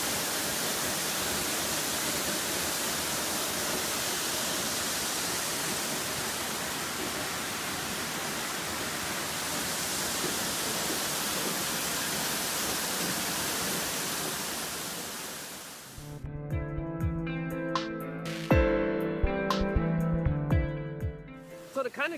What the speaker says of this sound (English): So I'm now behind a waterfall,